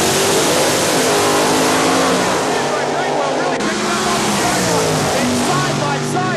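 Supercharged drag-racing funny cars, including a big cubic-inch Chevrolet-powered Camaro and a Vega, roar side by side down the drag strip in a dense, loud, continuous engine blare while an announcer talks over it.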